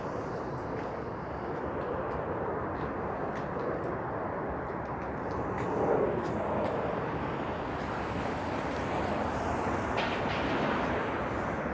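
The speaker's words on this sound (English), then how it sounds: "There's something you see less and less these days, an airplane." An airplane flies over a Midtown Toronto street, a broad, continuous roar that swells slightly near the middle and then holds steady.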